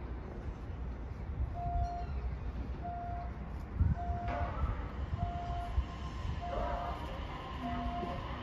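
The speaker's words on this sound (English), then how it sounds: "A train will soon arrive on track number 3." An E531 series train arrives at Tsuchiura station with a low rolling rumble, while a short electronic beep repeats at regular intervals through the platform ambience.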